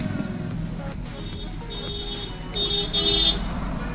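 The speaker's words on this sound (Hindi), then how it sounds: "ये देखिए बीप की आवाज़ आ रही है।" A digital multimeter gives its continuity beep, a thin steady high-pitched tone lasting about a second and a half, faint beneath a constant background hum and room noise.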